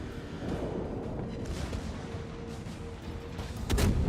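A battleship's armour-piercing gun salvo in World of Warships booms out as heavy artillery fire, with rumbling blasts building to a louder burst near the end.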